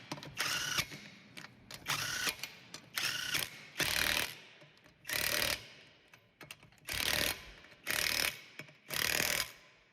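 A ratchet clicks in repeated bursts while wheel nuts are run onto a Honda Accord wheel, with about eight close, crisp bouts of rapid pawl clicking separated by short pauses.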